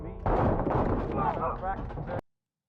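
Loud, dense gunfire from a TV crime drama (The Penguin, episode 2) as shooters fire at a vehicle, a rapid burst of shots and impacts lasting about two seconds, with voices mixed in, then abrupt silence.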